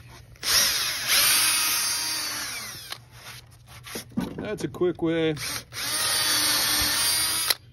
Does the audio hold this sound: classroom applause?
no